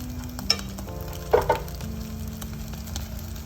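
Tuna patties sizzle steadily in a hot frying pan, with a soft continuous crackle and a brief scrape or shift of the pan near the middle.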